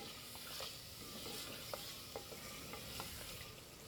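Beef for Chinyoti kunna cooks in a clay pot while spices are stirred in, a faint low sizzle broken by light, scattered scraping clicks from the spoon.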